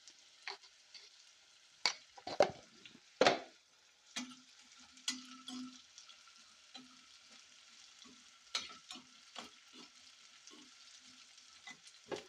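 Ingredients for a drumstick and tomato curry fry slowly in a pan until reddish. Quiet, scattered crackles and occasional spoon scrapes come with no voices.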